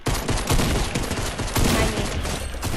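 Pistol gunfire in the Fortnite video game comes as a rapid, dense string of loud shots that fill nearly three seconds, close and continuous with no pauses.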